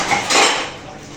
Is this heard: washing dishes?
yes